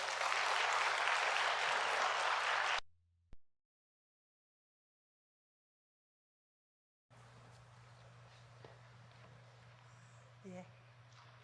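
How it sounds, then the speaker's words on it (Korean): A church congregation at a Sunday service applauds in a dense, steady burst for about three seconds. The applause cuts off abruptly into silence, followed by faint room tone. "여러분 박수 한번 쳐주세요"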